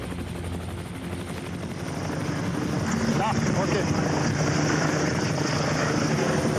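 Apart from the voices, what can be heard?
rescue helicopter hovering over ski slope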